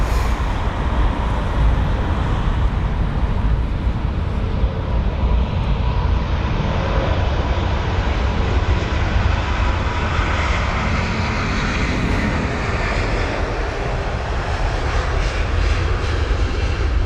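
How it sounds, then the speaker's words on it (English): Virgin Atlantic Airbus A350-1000 taxiing at London Heathrow, a loud, close and steady jet engine roar with heavy low rumble that stays constant throughout. "So the Virgin A350 1000 on the move now."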